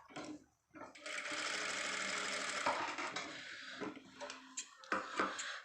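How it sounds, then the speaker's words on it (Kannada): A sewing machine stitching a designer blouse, running in a steady close whirring burst for a few seconds, then slowing and stopping in short start-stop runs, with a quiet voice nearby. "ನಿಧಾನಕ್ಕೆ ನೋಡಿಕೊಂಡು ಹೊಲಿಗೆ ಹಾಕ್ಕೊಳ್ಳಿ"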